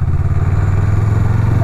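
A Honda Rebel 500 custom motorcycle with disc brakes rumbles loudly and steadily up close while braking, a low pulsing engine drone with faint clatter and no voices.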